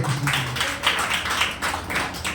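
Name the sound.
congregation clapping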